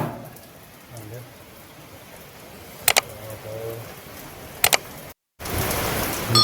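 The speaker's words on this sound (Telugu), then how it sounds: "ఇంక జోరు వస్తుంది వాన" Heavy rain falling in a steady broadband hiss, with a few sharp clicks and a brief dropout near the end, where the downpour returns a little louder.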